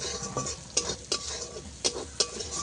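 Thick Bengali spice paste sautéed in oil for a shorpunti fish curry, a spoon stirring it in the pan with a few sharp scraping strokes over a low, steady sizzle.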